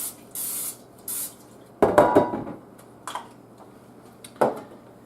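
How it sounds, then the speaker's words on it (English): Short hissing bursts of canola oil cooking spray onto a pan, then a few clattering knocks of the pan being set down and moved. "we'll go ahead and spray down the pan with the canola"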